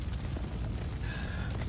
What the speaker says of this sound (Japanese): 落ちてきたな、打ち上げ花火。